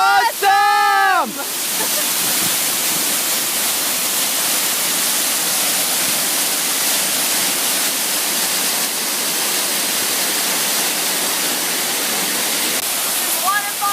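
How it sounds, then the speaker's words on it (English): A waterfall in a mossy forest on the Ookura hike pours as a loud, unbroken hissing rush that fills the whole stretch, with a brief whistling tone right at the start. "This is waterfall number 5, and they're just getting better and better."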